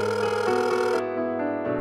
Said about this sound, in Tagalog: Tinawagan ko sa cellphone si Ditas.